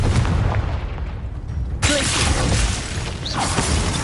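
A Confringo blasting spell goes off in Hogwarts Legacy with a single loud, sharp burst that erupts from a rumbling backdrop and rings out briefly afterward.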